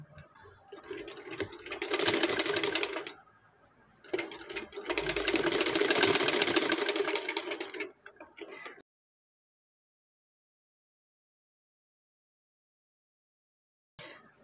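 A sewing machine stitches gota lace onto a frock in two steady, whirring bursts of rapid needle chatter, the second longer. The machine runs close and clear, then goes silent apart from a brief final start.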